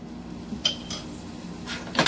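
Spoon scraping and clinking against a pot while vanilla extract is stirred into a coconut mixture, a few scattered metallic scrapes and knocks close by, with quiet gaps between strokes.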